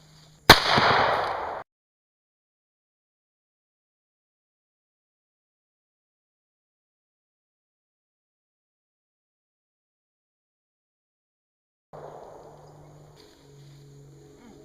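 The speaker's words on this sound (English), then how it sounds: "Just continue to blowing holes in it." A hot glue slug is fired at a helmet, producing one sharp, loud bang with a brief rumbling tail, followed by a long silence and then a softer clattering burst near the end.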